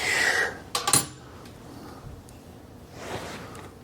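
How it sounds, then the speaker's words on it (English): A metal wrench knocked and handled during clock tower work, with a cluster of sharp metallic clinks early on, then quieter rustling and a soft scrape near the end. "get a wrench on there"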